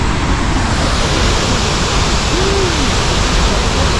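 Steady, loud broadband roar of a waterfall at Victoria in Africa sending up mist, a constant rushing wash of water heard up close with no pauses.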